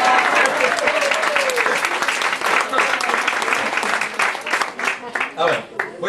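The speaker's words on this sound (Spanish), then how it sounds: "aplauso, hombre." An audience at a talk by a Catholic priest applauds loudly and steadily, the clapping thinning into scattered claps toward the end, with voices briefly heard near the start.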